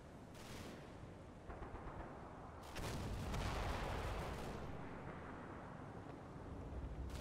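Artillery and gunfire in the Combat Mission war game, a dense, continuous rumble of shelling and shots that swells louder midway and stays heavy with no talk.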